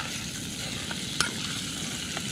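Chili frying in a pan at an outdoor camp on a deserted island, a steady close sizzle running throughout with one sharp scrape of stirring near the middle and a couple of softer knocks.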